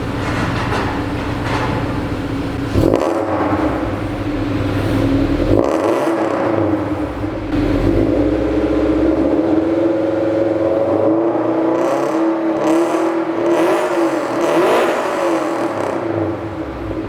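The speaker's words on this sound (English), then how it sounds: "It's an HKS exhaust system with unequal length headers made by Tommy. But if you're curious to hear how it sounds, I'll give you guys a couple of revs." A Toyota FRS with an HKS exhaust and unequal length headers revved a few times up close, its engine note climbing and falling in distinct pulls over a steady idle.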